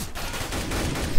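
Rapid gunfire in a Counter-Strike match on the Train map, a dense burst of loud close shots over about a second with no voices.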